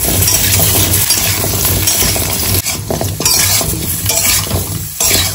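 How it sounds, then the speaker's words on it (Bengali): Black cumin and dried chillies crackle loudly in hot oil in a home kitchen, a continuous sizzle punctuated by sharp clinks and scrapes of a utensil against the pan. "একটুখানি কালো জিরে আর শুকনো লঙ্কা ফোড়ন দিয়ে পাতলা পাতলা করে বানাবো"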